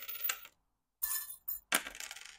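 Small metal charms cast onto a surface for a tarot reading, several bright clinking jingles in separate bursts with short silent gaps between, close and fairly quiet.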